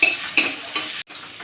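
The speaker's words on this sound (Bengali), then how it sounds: "একটু ভাজা ভাজা করি।" Ginger, garlic and chilli sizzle steadily in hot oil, with a few louder stirring scrapes from the pan breaking through the constant close frying hiss.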